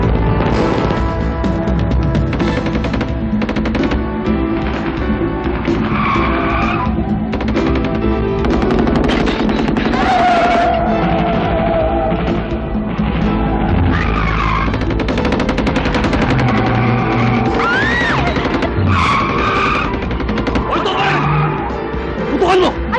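Gunfire in a Filipino action movie, with bursts of shots, skidding and car engine noise layered over dramatic music and a dense, loud soundtrack throughout.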